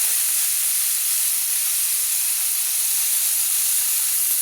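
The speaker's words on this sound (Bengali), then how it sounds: "এবার আরেকটু চিংড়ি মাছগুলোকে আমি ভেজে নেব।" Shrimp fry briefly in a hot pan, a loud, dense, unbroken hiss of spitting oil close up, with no voices.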